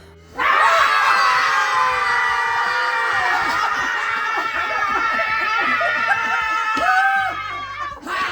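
A voice screams and growls loudly in a long, drawn-out roar, imitating a wild animal, with cackling and laughter-like sounds mixed in.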